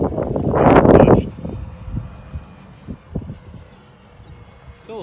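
An FMS P-47D Razorback 1500mm PNP RC airplane flies in gusty wind, heard from an onboard GoPro. A loud rush of wind buffets the microphone at first, then settles into a faint, steady engine hum with intermittent gust noise.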